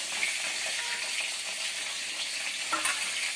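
Masala paste fries and sizzles in a pan as it is stirred for fish head with cabbage, a steady close, loud hiss with faint scraping turns and no talk.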